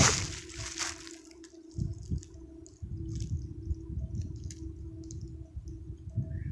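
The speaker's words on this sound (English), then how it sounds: "the water loud when I get on this side" Steady rushing water flows continuously under faint clicks and small splashes, a constant outdoor babble with no one talking.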